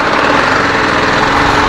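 A TVS Apache RR 310 motorcycle engine idles after its first service, a steady, dense mechanical drone that stays loud and close throughout with no variation and no voices.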